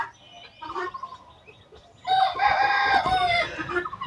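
Tiger chickens on a farm, a flock of about forty-eight, clucking softly at first, then a rooster bursts into a loud, full crow that carries through the second half, with no voices.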